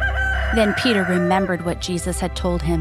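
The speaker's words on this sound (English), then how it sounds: "a rooster crowed." A rooster crows loudly and clearly while a voice narrates over it.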